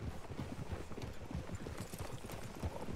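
Horse hooves clip-clop in Red Dead Redemption 2, a steady, fairly quiet run of soft thuds with no speech over it.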